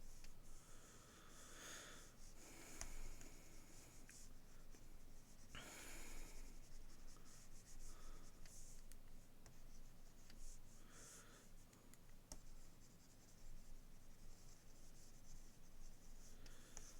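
A pencil sketches on paper in soft, scratchy strokes, faint and close, in irregular bursts with pauses between.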